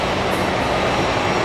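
A Bombardier Global Express XRS business jet rolls along at an airport, its engines giving a loud, steady broadband roar heard up close with no voices over it.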